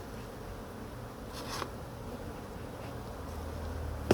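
A steady, low buzzing of many honey bees around hives fills the air continuously, with a slightly louder hum passing briefly near the middle.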